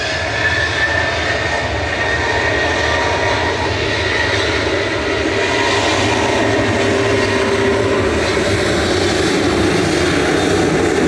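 Boeing 737-800 jet departing Manchester Airport, a loud, sustained roar of engines that holds steady and builds slightly over several seconds, with no voices over it.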